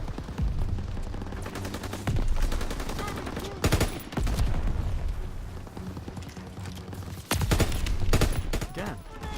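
Bursts of M15 rifle fire and other gunfire in Call of Duty WW2, with rapid repeated shots and loud heavy booms between quieter stretches, and a voice talking over the battle at times.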